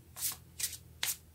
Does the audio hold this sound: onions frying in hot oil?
no